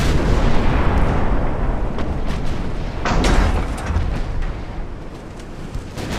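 Explosives detonate in a video game as a loud, dense low rumble of blasts and booms rolling continuously, with a sharper burst midway before it slowly eases off.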